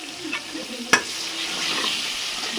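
Salt, turmeric, coriander powder and chili sizzle steadily with onions and tomato in a hot pan, with one sharp clank of a stirring spoon about a third of the way through and a constant frying hiss throughout.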